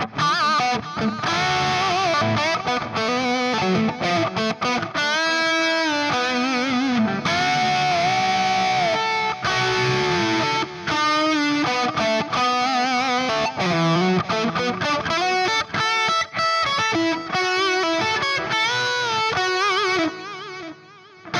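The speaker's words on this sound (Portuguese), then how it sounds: "Distorção maravilhosa, e ó, não tem ruído. Isso é uma captura do meu pack de capturas." An electric guitar plays heavily distorted riffs and sustained notes through a captured amp profile loaded on an M-EFCS Tank-G unit, loud and continuous with brief gaps, clean of background noise.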